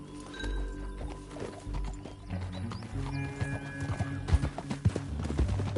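Horse hooves clip-clop at a gallop in Red Dead Redemption 2, with a neigh or whinny, a steady rhythmic pounding under game music that grows louder and more forceful toward the end.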